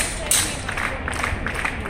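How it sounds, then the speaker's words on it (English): A crowd clapping together in a London setting, a steady patter of hands at moderate distance mixed with loose chatter and babble, with one sharper bright crack near the start. "Everybody clapping."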